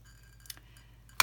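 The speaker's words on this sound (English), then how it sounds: "So if you can hear that, that is my hole puncher." A hole punch squeaks and clicks as it punches paper, giving a faint short click and then one louder sharp snap at the end, with a low steady hum underneath.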